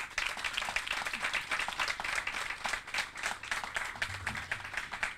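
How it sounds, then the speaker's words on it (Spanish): An indoor audience at an interview event with Air Force nurses claps steadily throughout, a dense, even patter of many hands without a break. "Un fuerte aplauso para Ana."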